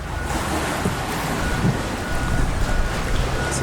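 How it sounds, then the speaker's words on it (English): Wind roars steadily across the top deck of a fish tender boat in Alaska, a constant rushing buffet with low rumbling microphone noise and no talk. "A little windy today."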